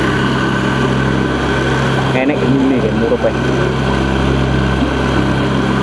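A small cotton candy machine powered by a sewing machine dynamo runs at a steady whirring hum with a constant tonal drone, while people talk over it.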